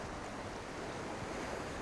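Sea waves breaking right in front of a wooden backpacker beach house in Sri Lanka, a steady wash of surf heard from close by, with no voices, wind noise mixed in.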